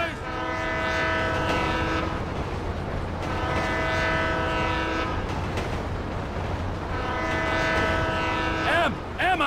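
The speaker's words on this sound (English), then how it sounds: "Train ain't stopping here, boys!" A train in a video game thunders past with three long, loud horn blasts over constant rumbling wheels and clatter, close by.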